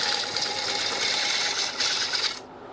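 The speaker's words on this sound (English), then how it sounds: "Putting a nice tenon on this so it'll be easier to get a hold of later." A wood lathe cuts a tenon on a punky pine bowl blank, giving a steady, close, continuous whirring scrape that cuts off abruptly near the end.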